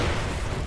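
An explosion in the shooter game Far Cry 3: a short, loud, rumbling blast of noise that fills the brief moment on its own.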